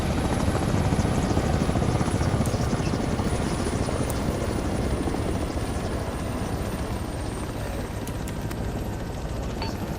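A video game helicopter spooling down gives a steady, loud rotor thrum and engine whine, running continuously and close with no voices over it.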